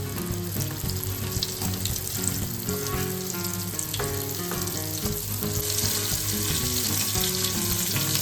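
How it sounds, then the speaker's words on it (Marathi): Bombay duck (bombil) fish fries in hot oil in a pan, a continuous close sizzle running under steady background music with no talking. "तव्यामध्ये तेल तापलेलं आहे आणि मी हे बोंबील सोडलेले आहे"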